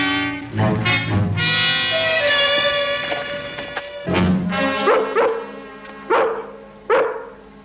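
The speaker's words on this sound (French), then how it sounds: "Il y a un chien derrière nous." A dog barks several times in short, separated bursts, fairly close, with a steady background hum between the barks.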